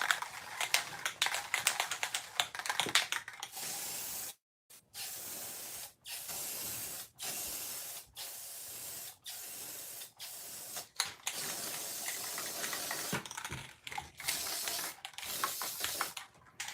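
Repeated hissing bursts from an aerosol spray can as red paint is sprayed onto a tool, a steady run of short sprays split by brief pauses, close and loud with no talking.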